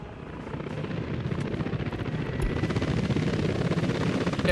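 Helicopter rotor noise beats in a continuous, fast thumping drone, loud and close and rising slightly, with no other sounds over it.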